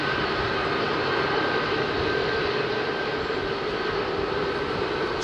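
Boeing 767-400 airliner at London Heathrow, a steady jet engine rumble and hiss with a thin high whine, constant and moderately loud, heard alone.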